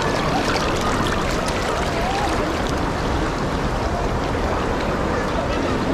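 A strong stream of water pours and rushes steadily and loudly at close range, a dense continuous roar for the whole stretch, during a bathing stop on a trip toward Kedarnath in Uttarakhand.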